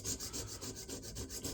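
Steady rubbing rasp of a Bubba Blades fillet knife blade stroked across a stone on a KME guided sharpener, repeated even strokes close up, fairly quiet with no talk.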